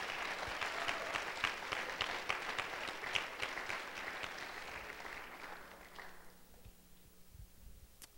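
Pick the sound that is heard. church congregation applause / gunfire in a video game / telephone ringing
church congregation applause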